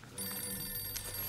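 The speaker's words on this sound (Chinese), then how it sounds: "我接个电话" A telephone rings in a short electronic trill that starts abruptly and holds steady for about a second, faint and alone.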